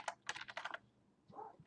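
Computer keyboard keystrokes while working in After Effects: a quick burst of several crisp clicks, a short pause, then a couple of softer taps. Quiet, close, with no voices.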